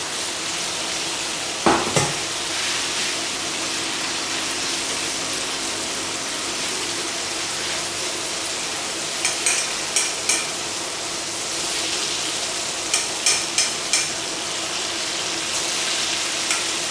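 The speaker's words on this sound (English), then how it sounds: "And here's sizzling." Pork ribs for Cantonese garlic fried ribs sizzle steadily in 180-degree hot oil, a loud, continuous hiss up close, with a few sharp crackles and spatters as pieces go in and the oil pops.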